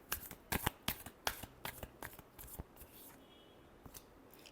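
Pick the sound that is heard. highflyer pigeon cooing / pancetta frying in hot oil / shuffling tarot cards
shuffling tarot cards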